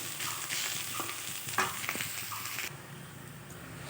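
Greens being stirred in a pan with a pinch of garam masala, in a Bengali dish of colocasia leaves and prawns; soft scraping strokes over a steady low frying hiss that drops slightly near the end, with no talking.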